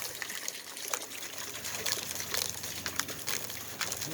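Water trickling steadily out of the pipe of a rope-and-washer pump, a continuous close splashing dribble with small irregular spurts throughout.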